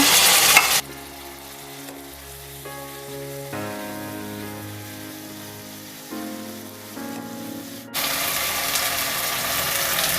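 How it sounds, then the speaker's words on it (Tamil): Chopped onion sizzles in a hot pan with a steady crackle, broken by stirring and scraping sounds and brief bursts of louder frying. "இப்போ நம்மளுக்கு ஆனியன் நல்லா ஃப்ரை ஆகிடுச்சு"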